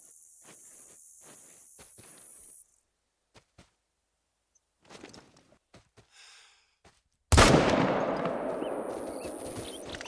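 Several sharp gunshots fired from the hip while hunting in theHunter: Call of the Wild, sparse cracks spread across a quiet stretch, ending in a loud sustained burst of noise that fades slowly.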